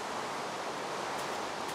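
Water placed in Minecraft Beta 1.7.3 gives a steady, fairly soft broadband rushing wash that runs evenly throughout with no voices.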